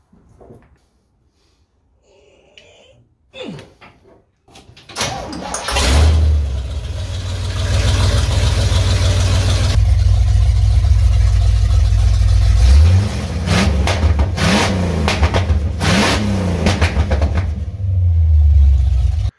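A supercharged car engine fitted with a smaller supercharger pulley revs hard several times, loud and close, its supercharger whining, with rising and falling pitch sweeps between sustained high-rpm holds.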